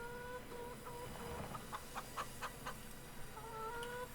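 Chickens in the video game Farming Simulator 22 cluck in a short, uneven series of calls over a steady farm ambience, with no talk over them.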